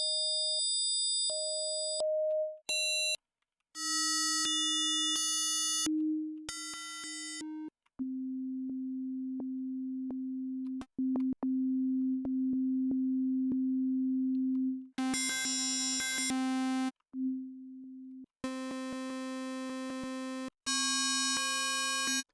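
Phase Plant software synthesizer playing wavetable tones: bursts of bright, buzzy harmonic notes alternate with a long sustained low pure tone, with clean gaps of silence between segments and no voices.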